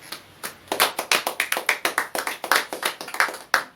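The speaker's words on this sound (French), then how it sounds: "On acclame très fort le Seigneur." A church congregation claps loudly together, a close run of sharp, fairly regular claps that keeps going at a brisk pace and ends with one last strong clap.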